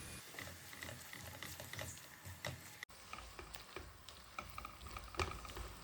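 Soy sauce, tomato ketchup and chilli sauce being stirred into a pan, with faint, close scraping and light ticking spoon strokes over a low sizzle and a brief dropout partway; no talking.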